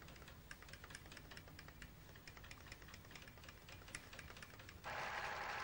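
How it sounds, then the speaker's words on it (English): A Pfaff sewing machine has its needle driven in small steps by a stepper motor, giving a fast, even mechanical ticking that changes to a steadier whir near the end. "I think you can see the stepper motor moving the needle in this machine"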